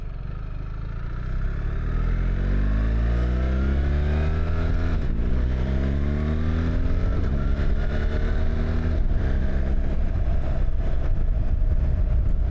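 BMW R1300GS motorcycle engine pulling hard while riding, its pitch climbing and then dropping sharply at each quick-shifter gear change, with several shifts in a row. It sounds loud and steady, with wind rush and no talking.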